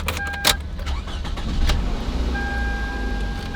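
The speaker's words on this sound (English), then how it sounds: "let's see if you can hear me over the car running" A 2007-2011 Toyota Camry idling with its engine running, a low steady rumble heard close up inside the car, with a few sharp clicks and a faint tonal whine over the hum.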